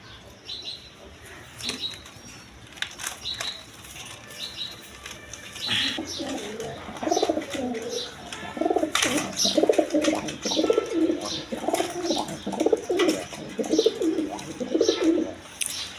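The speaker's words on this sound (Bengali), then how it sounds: "এখানে এক পেয়ার আফসান গিরিজাল কবুতর আছে আপনার" A pair of Afsan Girizal pigeons at a farm coo softly and repeatedly in the second half, close by, with wing flaps and small bird noises scattered throughout.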